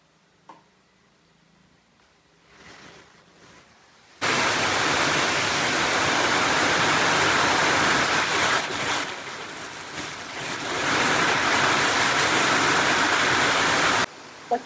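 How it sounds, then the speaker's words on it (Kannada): Heavy rain pours down outdoors at a home, starting abruptly after a few quiet seconds and then holding as a loud, dense, steady roar for about ten seconds before cutting off. "ಮಳೆ ಜೋರಾಯ್ತು."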